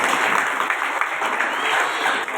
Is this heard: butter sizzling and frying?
no